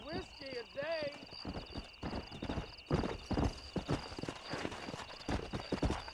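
Horse hooves clip-clop in Red Dead Redemption, a steady, close rhythmic trot of hoofbeats throughout, opening with a whinny and mixed with game background sound.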